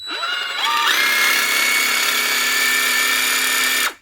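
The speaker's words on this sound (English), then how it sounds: "One Dewalt cordless jigsaw" A Dewalt DCS331 cordless jigsaw, freshly repaired after a seized motor, spins up and runs steadily with a loud, close, high whine for about three seconds before cutting off. No one speaks.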